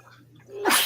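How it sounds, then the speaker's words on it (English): A single sharp sneeze bursts out suddenly at the end after a quiet moment, close and loud. "I was waiting on that sneeze."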